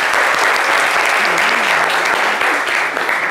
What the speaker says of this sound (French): N'hésitez pas, applaudissez-le.